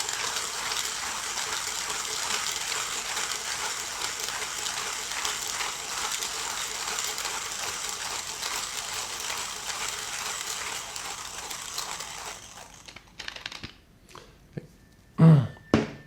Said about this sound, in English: I will even say in some ways it's nicer to grind with because this handle is a bit longer, so you just have more leverage.